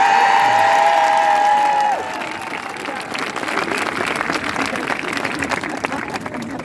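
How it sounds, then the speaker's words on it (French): An audience in a Paris basilica applauds after a Christmas choir performance, steady clapping from a large crowd following the fading end of the last sung notes, reverberant and moderately loud. "on peut les applaudir."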